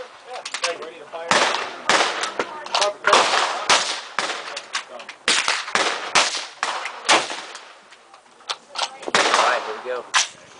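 Gunshots fired at an outdoor shooting range, a rapid run of loud, sharp cracks in uneven bursts with brief pauses between volleys, close to the listener.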